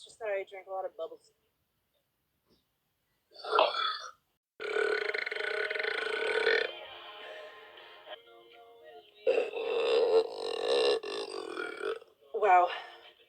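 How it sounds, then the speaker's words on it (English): A woman lets out a series of loud, drawn-out burps after drinking a lot of fizzy drink, with bursts of her talking in between the belches. "Sorry about my burps,"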